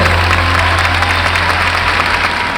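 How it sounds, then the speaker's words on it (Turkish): Steady, sustained applause from an audience, dense clapping filling the whole stretch without a break, with a low hum underneath. "Çok büyük alkışlarınızla Elif Fıtırlı."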